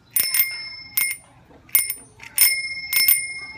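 A bicycle bell rings five times in quick double dings, bright and close, with short pauses between each ring.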